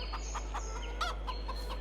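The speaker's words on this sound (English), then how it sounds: "We've got some chickens as well." Backyard chickens clucking in short repeated bursts, fairly close and moderately loud, with a brief squawk partway through.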